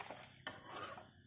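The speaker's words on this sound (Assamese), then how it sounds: "এতিয়া ভালকৈ লৰাই দিব লাগিব" Potato and egg curry being stirred in a pot, with a few soft metallic scrapes and clinks of a spoon against the pot over a brief stretch, no talk.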